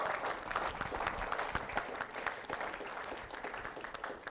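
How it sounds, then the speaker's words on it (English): A round of applause at a season awards ceremony, a small group clapping steadily with scattered sharp claps, fairly close, sustained for several seconds. "Everyone give a round of applause to Enigma."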